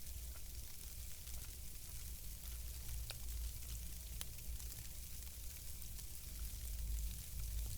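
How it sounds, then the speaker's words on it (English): Sleet falling outdoors at a lean-to camp in the first snow, a steady fine hiss and patter with scattered sharper ticks over a low rumble, constant throughout and no voices. "Just in time too, because it's starting to sleet."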